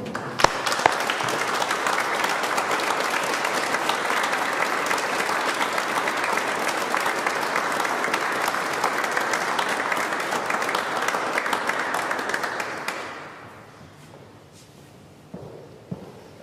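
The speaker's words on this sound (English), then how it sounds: "give a round of applause for Mum." Sustained applause from a large audience at a funeral service, steady for about thirteen seconds before fading quickly, followed by a few faint scattered thumps.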